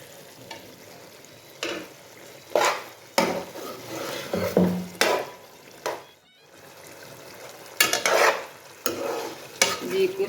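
Masala frying in a pot at home, a spoon scraping and stirring in repeated strokes over a steady sizzle, with no voices.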